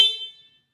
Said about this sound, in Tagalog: Tapos, magbusina tayo.